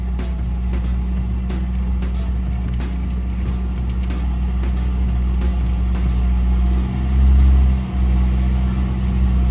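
A car engine idling steadily just after starting, a low continuous rumble with a brief louder surge near the end, nearby and without talking.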